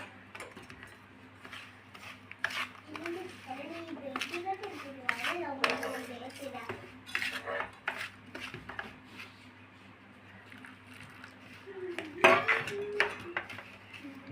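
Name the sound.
mixing milk into semolina for rava laddu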